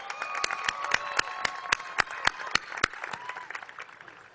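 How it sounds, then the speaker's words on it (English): Applause at a university commencement ceremony, individual claps standing out sharply over a softer background of clapping, fairly distant and moderate, gradually thinning toward the end. "Let's give her a round of applause."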